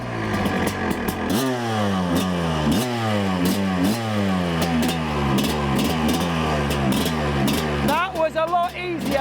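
An 18-year-old Suzuki RM250 two-stroke motorcycle fires up on the kickstart and revs repeatedly in rising and falling bursts, close and loud, with a sharper rev near the end.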